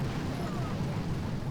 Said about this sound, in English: I'm gonna just artillery and barrage that big cannon in there.